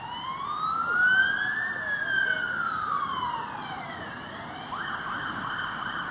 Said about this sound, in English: sirens going by and you're sitting in the park